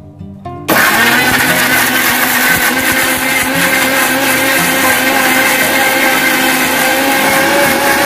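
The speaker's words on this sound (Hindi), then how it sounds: "दिए मिक्सी पेस्ट करब।" After a brief quiet moment, a mixer grinder kicks on loudly and keeps whirring steadily at close range, grinding a paste for mango mint sherbet.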